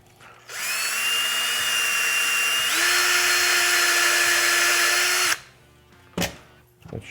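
A power drill spins a step drill bit through material by hand, a loud steady whine for about five seconds that shifts pitch partway as the bit steps up, then stops, followed by a couple of short handling clunks.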